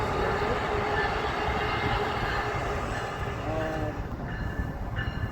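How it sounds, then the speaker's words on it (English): Train rolling past in North Philadelphia, a continuous loud rumble and rattle of railcars with a few high squeals, heard up close. "Catch that train, guys."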